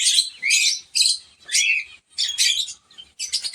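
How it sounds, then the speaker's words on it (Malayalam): A pair of cockatiels, one lutino pied and one lutino pearl, give shrill, close chirps in about seven quick bursts separated by short silences. "ഇപ്പോൾ നമ്മൾ കണ്ടുകൊണ്ടിരിക്കുന്ന കോക്ടെയിൽ ജോഡി ആണ്. ലൂട്ടിനോ പൈഡും ലൂട്ടിനോ പേളും ആയിട്ടുള്ള ഒരു ജോഡി കോക്ടെയിലിൻ്റെ പെയറാണ്."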